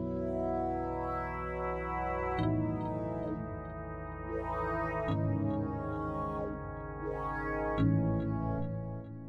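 A synth pad chord in FL Studio plays while its plugin parameters are swept by hand, so the tone brightens and darkens in slow repeating waves as the chords change, loud and continuous with no talking.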